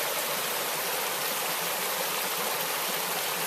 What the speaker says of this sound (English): Beautiful little creek just coming bubbling on down.